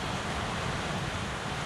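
Waves rolling onto the Baltic Sea shore on a calm, windless late-February day, heard as a steady, continuous wash of surf with no breaks and nothing else standing out.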